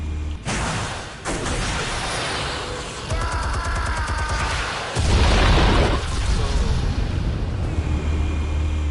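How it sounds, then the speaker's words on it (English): Armed explosives detonate in Batman: The Telltale Series, a loud booming blast that rolls on with heavy low rumble and debris, surging again halfway through, with no talk over it. "Explosives armed. Fire when ready."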